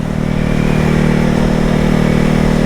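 Steady engine drone of a 2021 Ducati Hypermotard 950 SP being ridden, loud and close with wind rush, held at an even pitch throughout the short stretch.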